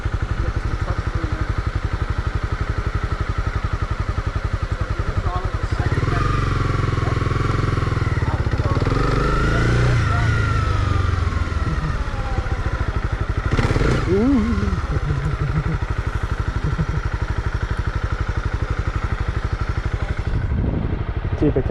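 A Honda CB300R motorcycle engine runs steadily and close by, with the throttle eased up and down, and a few engine swells through the middle.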